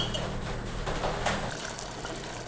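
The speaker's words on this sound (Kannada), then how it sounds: "ಒಂದು ಹದಕ್ಕೆ ಮೀನು ಬೇಯುವಷ್ಟು ನೀರು ಹಾಕುವ" Water poured into a pan of frying mackerel curry, a steady rushing splash and gurgle over low sizzling, close and moderately loud, with no talk.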